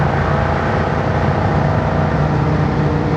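A 1967 Mustang S-code 390 GT Fastback accelerates toward highway speed, a loud, steady broadband engine and road roar heard from inside the car, continuous throughout.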